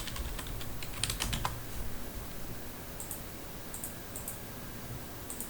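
Someone types on a computer keyboard while setting up a user account on a Windows server. A quick flurry of key clicks comes early, then sparse isolated taps over a quiet hum.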